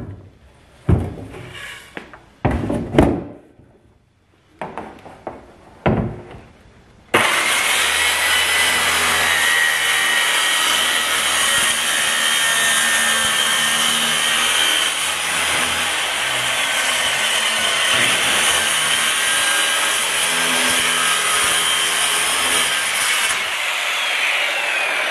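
A power saw cuts across the top of a blue plastic 55-gallon drum, a loud steady buzzing drone running for about eighteen seconds after some short bursts of handling and start-up noise.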